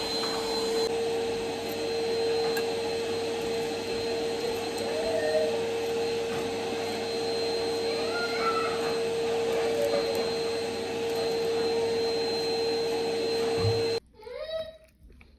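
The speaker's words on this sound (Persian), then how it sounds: "گفتم حالا آشپزخونه رو بزن، بقیه‌شو خودم جارو میزنم" Vacuum cleaner running across a kitchen floor, a steady loud whining drone with a high pitched tone that holds for about fourteen seconds, then cuts off abruptly, followed by a brief moment of quieter sounds and a voice.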